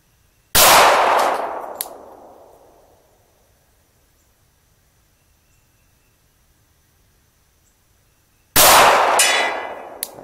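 Two loud gunshots about eight seconds apart at an outdoor shooting range, each with a long, fading echo and a sharp metallic ring from a bullet striking a steel target.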